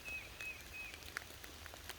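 Rain falls in the woods on a spring morning during turkey season, a soft, steady patter with scattered individual drops tapping nearby and a faint bird call in the background.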